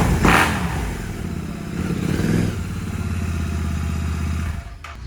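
A powerful motorcycle engine revs close by, rising from a throaty idle into a sharp blip and then a sustained rough rumble with clattering, before dropping off abruptly at the end.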